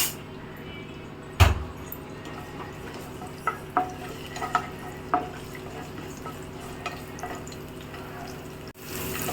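Chopped garlic and ginger go into hot oil in a pan, a sharp thud followed by a low bubbling fry and scattered clinks and scrapes of stirring, close and moderately quiet, with no voices.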